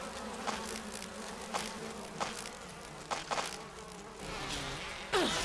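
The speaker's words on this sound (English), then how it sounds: "Bees came out." Bees buzz in a steady, close swarm drone in the Resident Evil video game, with a few louder swells and sharp interruptions, and no voices over it.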